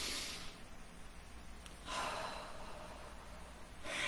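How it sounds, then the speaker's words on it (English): A person takes slow, deep breaths in, with broad breathy noise swelling at the start, again near two seconds and at the end, close and alone with no talking. "I want everybody just to think about taking a deep breath."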